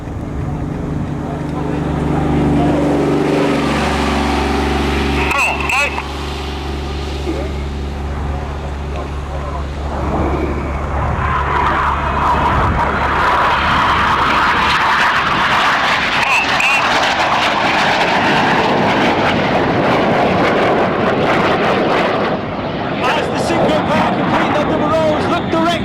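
RAF Red Arrows display jets fly the final manoeuvre of their show at an international air tattoo, a loud, broad roar that swells and sweeps overhead, with crowd murmur and announcements underneath.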